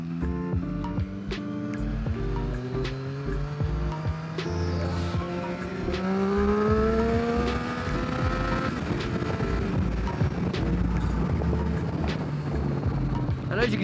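A Triumph Street Triple R motorcycle pulls hard through the gears, its engine note climbing in pitch, dropping briefly at a shift, then rising again. Strong wind noise rushes over the engine, heard close from the rider's position.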